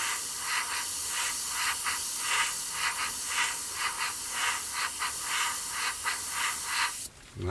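An airbrush sprays yellow paint onto a 1/48 scale Kinetic Pucara model in thin coats, a close bright hiss pulsing in short, regular bursts before stopping abruptly near the end.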